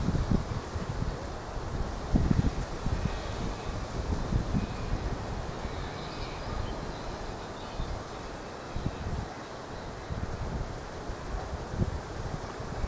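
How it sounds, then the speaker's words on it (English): Gusty wind buffets the microphone on a windy spring day, a steady low roar with stronger rumbling gusts, continuous and fairly loud with no voices. "It's a windy spring day with lots of pollen about"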